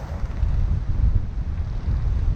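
Steady wind buffets the microphone aboard a Bavaria 41 sailboat in gusty conditions, a loud, continuous low rumble with a faint wash of water beneath and no voices.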